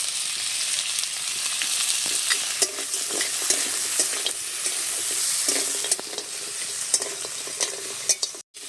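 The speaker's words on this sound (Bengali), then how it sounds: "কাঁকড়াগুলোকেও হালকা করে ভেজে নিয়েছি মশলার সাথে।" Crabs frying lightly with spices and a little turmeric in a pan, a dense, continuous crackling sizzle with frequent sharp spatula clinks and scrapes, close and fairly loud throughout with no voices.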